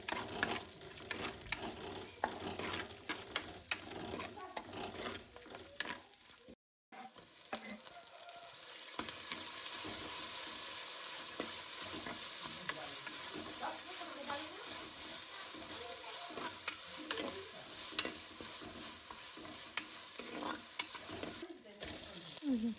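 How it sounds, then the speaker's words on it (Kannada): Garlic, green chili and curry leaves frying in oil in a pan make a steady hiss and sizzle, with stirring scrapes at first, a brief gap, then continuous sizzling at moderate loudness. "ಬೆಳ್ಳುಳ್ಳಿ, ಹಸಿರು ಮೆಣಸಿನ್ಕಾಯಿ, ದೆನ್ ಕರಿಬೇವು ಆವಾಗಲೇ ಸೇರಿಸ್ಕೊಂಡಲ್ಲ ಇದನ್ನೆಲ್ಲ ಸೇರಿಸ್ಕೊಂಡು ಫ್ರೈ ಮಾಡ್ಕೊತಾ ಇದ್ದೀನಿ"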